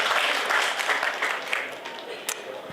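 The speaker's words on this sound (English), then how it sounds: "honor your own self by a round of applause, please" A crowd at a national lawyers' festival session claps steadily in sustained applause, a dense wash of hand claps that slowly fades.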